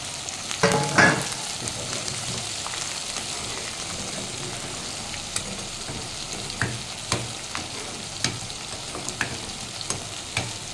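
Tempering spices fry in oil for a larger pot of sambar, making a continuous close sizzle with scattered sharp pops and crackles; a few louder bursts come near the start.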